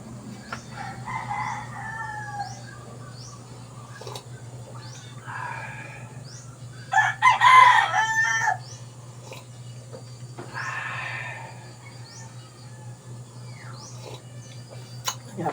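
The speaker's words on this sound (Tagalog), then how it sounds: "At ako ay manok. Tilaok." A rooster crows loudly once in the middle, a drawn-out cock-a-doodle-doo over a steady low hum, with fainter clucks and bird calls scattered before and after.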